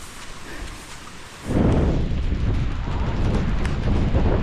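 Heavy rain pours down during a storm over rice fields, a steady roar that swells abruptly into a loud, dense rush with deep rumbling, as of thunder and strong wind, close and constant throughout.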